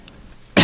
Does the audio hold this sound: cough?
yes